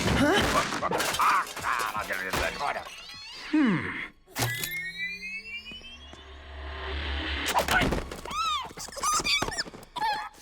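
Blaster shots in a Slugterra animated cartoon, a busy mix of zapping, whooshing energy blasts and impacts, with rising and falling electronic tones, creature squeaks and a short silence midway, with voices talking between the effects.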